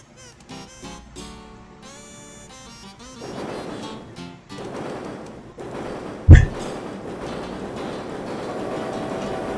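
A train running in the video game Wild Arms 2, a rumbling mechanical rail sound under game music, with a sharp heavy thud midway before the steady train noise continues.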